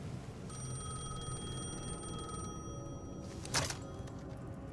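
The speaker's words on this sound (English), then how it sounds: "Okay, let's answer the phone." A telephone rings inside the horror game Alan Wake 2, a steady electronic tone with bright harmonic bands held for a few seconds over a dark ambient background, then a sharp burst near the end.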